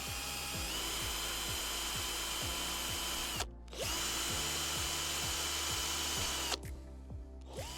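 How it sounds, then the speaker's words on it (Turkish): A power drill bores a hole through a plant support frame, its loud steady whine running continuously with a brief pause in the middle and another near the end, close and without talk. "Daha sonra tam burasından deliyorum."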